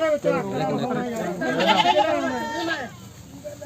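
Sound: goats bleating at goat market

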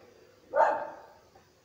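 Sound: dog barking in Cyberpunk 2077 video game

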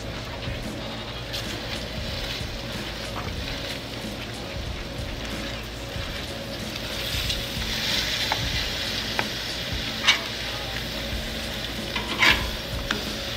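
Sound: steak fries tossed and sizzling on Blackstone griddle

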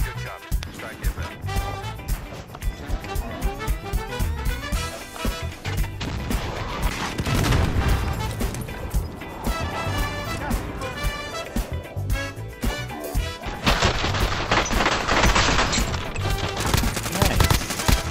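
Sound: airstrike explosions and gunfire in Call of Duty Warzone video game

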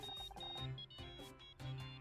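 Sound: phone ringing in a video game (Murder by Numbers)

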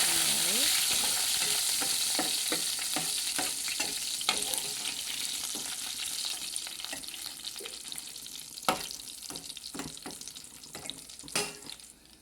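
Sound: curry leaves and onion frying in oil

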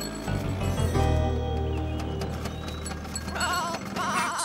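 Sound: goat bleating

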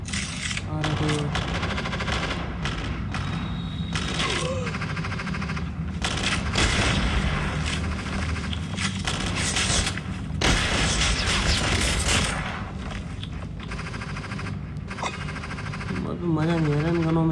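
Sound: gunfire from guns in Call of Duty battle royale video game

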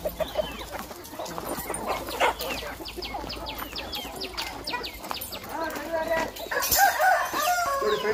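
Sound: native country chickens crowing at chicken farm

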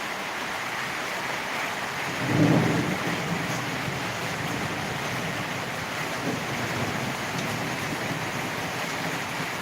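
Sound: thunderstorm with heavy rain

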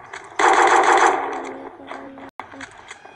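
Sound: gunfire in video game

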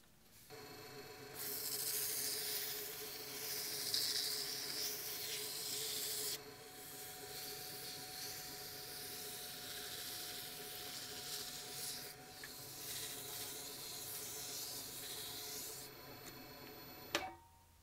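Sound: sanding a turned dragon egg on a lathe

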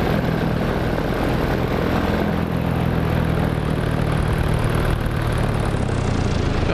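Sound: aircraft flying and descending

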